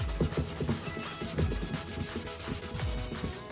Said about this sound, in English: trying to remove the scratches that the sander left, because this is 80 grit sandpaper, so it's pretty rough